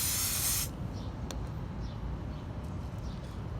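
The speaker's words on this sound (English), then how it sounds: "once you let the mold cure, you have to spray the release agent on it" Mold release agent misted from a spray can onto a cured casting mold, a loud close hiss lasting under a second, then a quiet room with faint small handling noises.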